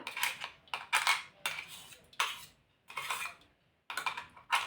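Dahi vada batter whisked in a bowl, producing a series of short, close scraping and clattering strokes separated by quiet gaps in an uneven rhythm.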